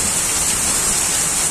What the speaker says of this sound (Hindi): यहाँ पर बादल टूट पड़ा हुआ है।